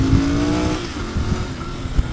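A Royal Enfield Continental GT 650 motorcycle revs loudly and close during a street ride, a steady deep exhaust drone with a rising then easing engine pitch and wind rush.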